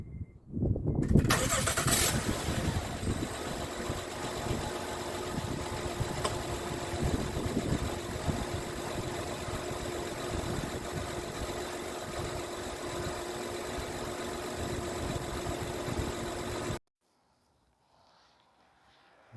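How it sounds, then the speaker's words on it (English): A Honda Odyssey minivan engine cranks and catches during an oil change service, then settles into a steady, close idle that runs for about fifteen seconds before cutting off abruptly. "now we are going to start the engine and run the engine for maybe 30 seconds or something"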